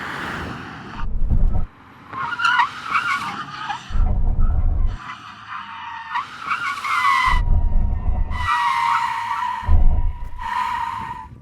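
Loud, drawn-out tire screeches from a BMW M5 V10 braking hard with its front wheel locking up, repeating in several bursts with low rumbling thumps between them.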